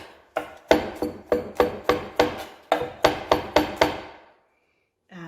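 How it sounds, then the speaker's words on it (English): A knife chops garlic finely on a board in about a dozen sharp, evenly spaced strikes, close and fairly loud, then stops. "So then we'll just finely chop the garlic."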